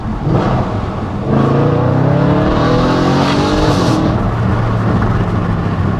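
An Audi RS4 Avant's 4.2 V8 in dynamic mode roars loudly up close, revs climbing and dropping through rapid downshifts with a dense, rising engine tone and no talk over it.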